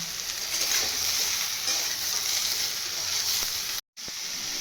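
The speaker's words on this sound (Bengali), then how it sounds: "দিয়ে ভালো করে সবজিগুলোকে ভেজে নেব" Vegetables fry in hot oil with salt and turmeric for a vegetarian sambar, making a loud, continuous sizzling hiss with light stirring scrapes and a brief cut to silence near the end, without talking.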